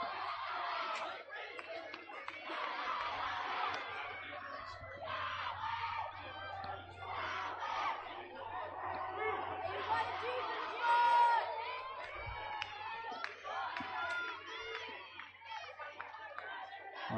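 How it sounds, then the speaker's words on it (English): Loud crowd at a high school 6A softball championship game between Bingham and Riverton, a sustained mass of shouting, screaming and cheering voices that swells and dips, with a brief louder surge near the middle. "Crowd's going crazy because some fan didn't make a play."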